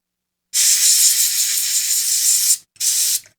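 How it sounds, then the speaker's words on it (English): Compressed air sprayer blasting a retro Z80 circuit board dry, a loud steady hiss lasting about two seconds, then a short break and a second brief burst, close up with no talking. "get it fully air dried out with the air sprayer here"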